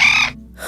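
A parrot gives one harsh, loud squawk up close, which breaks off and is followed by a second cry starting just after.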